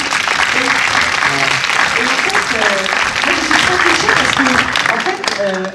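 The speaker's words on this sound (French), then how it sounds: "On peut l'applaudir d'ailleurs, un peu se lever." Cinema audience applauding a film's screenwriter at a screening, loud sustained clapping from a full room with a few voices and cheers rising over it.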